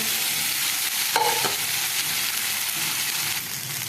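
Rice for fodnicha bhaat fries in a pan under a loud, steady sizzle, with a brief scrape of stirring partway through.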